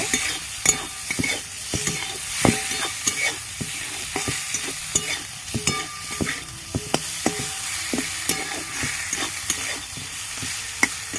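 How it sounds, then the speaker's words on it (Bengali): Brahmi greens frying in ghee while being stirred, repeated sharp scrapes and taps of a utensil against the pan over a soft constant sizzle, close and fairly loud, no talking. "ঘিটা দিয়ে আমি নেড়ে চলে নামিয়ে নেব"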